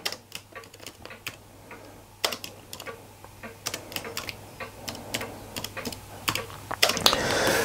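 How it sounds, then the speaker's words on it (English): Keys clatter on a computer keyboard as a string is entered into a serial terminal for an Arduino display, with irregular bursts of clicks that start sparse and grow busier and louder toward the end, with no talking. "then we type in a string"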